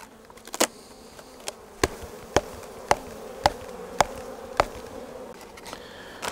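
Honey bees hum steadily throughout a hive inspection on a split hive, with sharp clicks and knocks from the hive frames at regular intervals. Nobody speaks.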